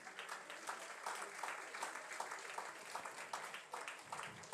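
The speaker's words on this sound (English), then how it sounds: "Keep the applause going, ladies and gentlemen" An awards night audience keeps up continuous applause as recipients come on stage, a faint, distant wash of many hands clapping at an even level.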